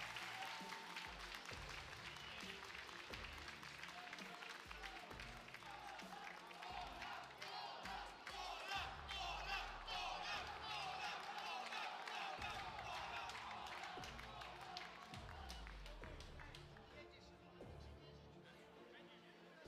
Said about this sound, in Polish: Wielkie brawa dla Adriana Polaka.